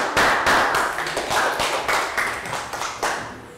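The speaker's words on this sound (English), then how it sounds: "Round of applause." A Year 3 science class claps together during a lesson review, a loud, close burst of roughly a dozen sharp, rhythmic claps in a roughly steady beat, with no talking.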